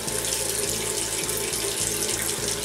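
Tap water running steadily into a sink while someone washes their face, a close, continuous splashing hiss with faint rhythmic gurgles, no talking.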